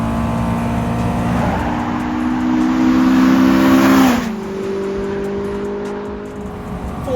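A 3.2-litre four-wheel-drive sleeper car, about 900 kg, accelerates hard through its gears from inside the cabin, its engine tone climbing steadily before a clear shift drop near the end, loud and continuous.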